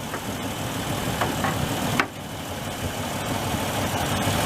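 A 1996 Ford Ranger engine idles steadily, a continuous low mechanical rumble at constant level with a couple of brief clicks and a short sharp tick partway through, no talking.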